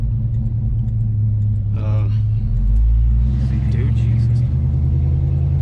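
A Chevelle V8 with single chamber dual mufflers rumbles steadily and loudly at idle, with a brief swell partway through, while someone speaks over it.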